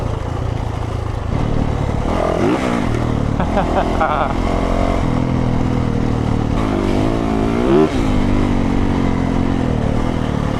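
A dirt bike, a Yamaha YZ450 or Honda CRF, ridden off-road over bumps: a loud, continuous engine drone with rising and falling revs and some rattling, close to the rider, with speech intermittently over it.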